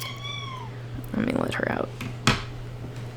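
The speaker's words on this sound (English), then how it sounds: "that was my cat" A house cat meows indoors in a couple of short rising cries over a steady low hum, followed by a clunk, while a person says a few words nearby.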